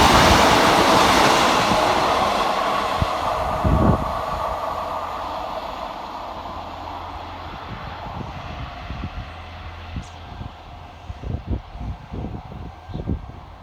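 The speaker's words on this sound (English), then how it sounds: "Flying fast through the station for Northern is 150 211" A Northern Class 150 diesel train passing fast through a station, a loud rushing roar that fades steadily as it moves away, followed by rhythmic clatters of wheels over rail joints.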